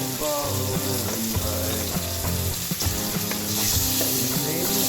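Turmeric powder being stirred through a frying pan over low flame, where a steady sizzle runs under repeated spatula scrapes and taps close by, with no talking.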